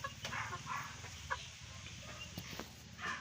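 A young gamefowl hen from a fighting-cock bloodline clucks in a farmyard, soft repeated calls close by, with faint bird noise around and no talking.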